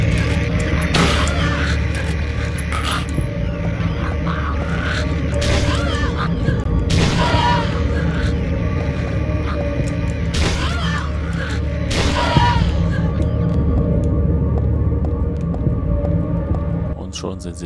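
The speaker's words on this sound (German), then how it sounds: "Da ist er explodiert." An explosion in the video game Silent Hill 3, heard as several loud broadband booms and thuds spread across a long stretch over a droning, siren-like game background, with a person talking throughout.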